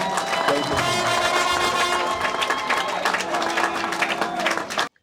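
An assembled group of customs officials applauds the provincial directorate during a visit by the director general, with lively clapping and some cheering over a faint musical tone, ending abruptly.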